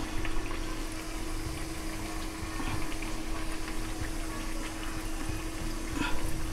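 Wheat-flour chakli frying in oil, heard as a continuous dense bubbling and sizzling close by, steady for the whole stretch with a faint hum beneath and no speech.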